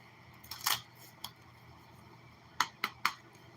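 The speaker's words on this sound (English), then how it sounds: "Let's shuffle these bad boys up." Tarot cards are shuffled close up, giving a few crisp slapping riffles early on, a lone snap, then three sharp quick card flicks in a row over faint room noise.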